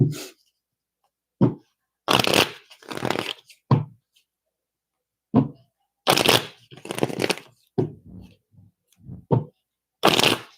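Playing cards shuffled by hand in a series of short riffling bursts, close and crisp, separated by silent pauses, with no voices.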